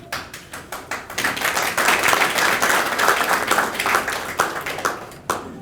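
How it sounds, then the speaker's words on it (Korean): Applause at a Korean party leadership meeting: a few scattered claps swell into dense, steady clapping from a nearby crowd, then thin out again to separate claps. "최고위원회의를 하면서 박수를 받아본 건 또 처음이네요"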